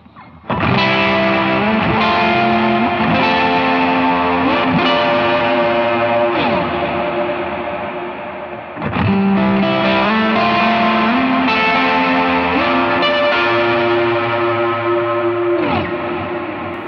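A Veritas Custom Minimaster electric guitar on its middle pickup plays chords through distortion and echo effects, sustained and ringing with a short pause before the phrase repeats, loud and alone.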